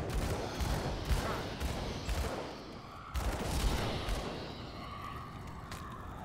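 Gunfire in the action RPG Grim Dawn, played as a Purifier character: repeated loud, punchy bursts of shots with booming low end over dense battle noise, clustered in two volleys and trailing off.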